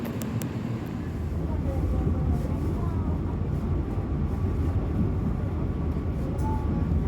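Passenger train car of the Gaya Baru service on K5 bogies rolling along rails between Solo and Jakarta, a steady low rumble and rattle filling the interior throughout, loud and continuous with faint tonal squeals.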